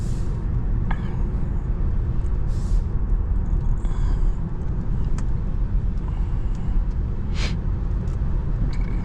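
Steady road and tyre rumble inside a 2025 Tesla Model 3 Long Range on the move, with a continuous low drone that holds evenly throughout and a few faint brief squeaks and ticks over it.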